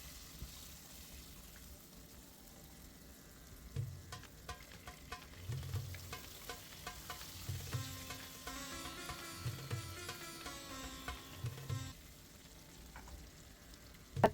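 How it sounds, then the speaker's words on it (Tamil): Onions sautéing in sesame oil for a South Indian garlic gravy, a quiet steady sizzle with soft rhythmic scraping and stirring in the pan, no talk. "நல்லா வதக்கி எடுக்க போகிறோம் வெங்காயம் நல்லா வதங்கி சுருண்டு வரணும்"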